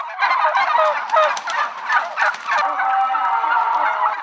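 Turkeys on a farm in Kandıra, Turkey, gobble in a dense, loud flock chorus, with overlapping calls rising and falling continuously and no talk.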